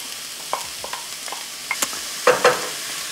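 Onion sautés in about a tablespoon of olive oil in a pan under a soft continuous sizzle, with light spoon clicks and scrapes and two firmer stirring knocks near the end.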